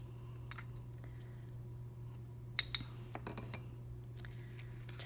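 A small sprinkle spoon is tapped to knock off Neon Flamingo pink glitter, giving a few light metallic clinks and ticks over a low steady hum, quiet and close, with no talking.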